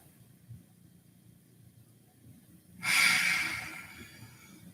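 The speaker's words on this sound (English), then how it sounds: "Just breathing here." A single deep exhale through the nose, fairly close and soft, follows quiet breathing during a vinyasa yoga pose.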